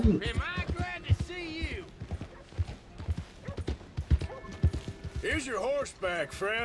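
Horse hooves clip-clop in the video game Red Dead Redemption 2, rhythmic and fairly close, under someone talking, with a brief whinny near the end.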